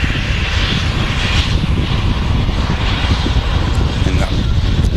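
KLM airliner in traditional blue livery taxiing at Manchester Airport, a steady loud engine roar with broadband rumble and whine that holds constant throughout, with wind noise mixed in.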